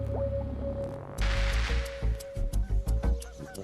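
Orphaned geese give a run of repeated honks, close and fairly loud, over a low steady hum after a brief quiet start.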